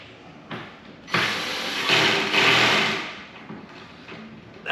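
A power tool whirs in a few short bursts while tightening small fasteners, each run buzzing for a second or two at close range with brief pauses between.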